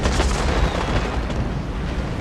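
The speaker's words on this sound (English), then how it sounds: "Meanwhile, Nagaoka are firing with several other guns." Heavy naval gunfire and a ship explosion in the Shogun: Total War video game, a dense, loud, continuous rumble of booming blasts with no pauses, filling the whole moment.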